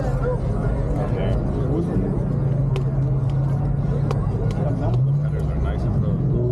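A car engine with exhaust headers rumbling low and steady at a nighttime street car meet in West Palm Beach, a constant deep drone under loud nearby talking.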